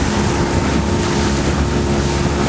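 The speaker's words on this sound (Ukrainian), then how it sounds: "Мотор ведет себя хорошо, запас мощности хороший, лодка просто замечательная." A Honda BF20 outboard motor drives a Voronezh boat through short, steep waves on the White Sea, its steady engine drone running loud and continuous under heavy wind buffeting and the rush of water against the hull.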